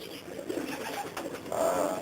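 Pigeons cooing in a loft, a mixed flock of stock birds kept for many years, with soft, overlapping low coos rolling on steadily and swelling a little louder near the end.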